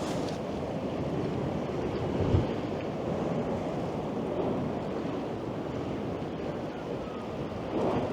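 Sea waves wash and splash near seaside steps, a continuous loud rushing surge with wind buffeting the microphone and a couple of heavier swells, no voices.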